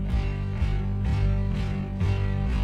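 A copyrighted song played back slowed to half speed, a dense, smeared, bass-heavy wash of music with sluggish pulsing accents throughout, loud and continuous without speech.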